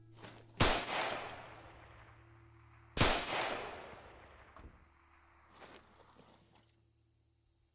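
Two loud gunshots crack at close range in the ArmA II military game at a roadblock, a few seconds apart, each with a long echoing tail, followed by a fainter distant shot.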